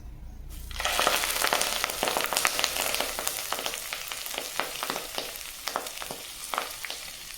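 Drumstick leaves dropped into hot ghee burst into loud, crackling sizzle that starts abruptly and keeps popping and spitting steadily, close by.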